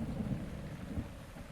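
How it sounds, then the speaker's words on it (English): Rain and a thunderstorm in The Legend of Zelda: Breath of the Wild, heard as a brief, steady wash of rainfall with a low rumbling undertone, moderately loud, with no voices. "Seriously, stop raining."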